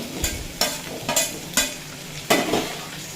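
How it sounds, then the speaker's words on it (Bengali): Jackfruit seeds and potato frying in a pan over medium flame, with five sharp scraping stirs of a spatula that come at uneven intervals over a low background sizzle, close and fairly loud, no voices. "কাঁঠালের বিচিগুলো মিডিয়াম ফ্লেমে রেখে দুই মিনিট মতো ভেজে নিয়েছি এরপর এড করে দেব আলু"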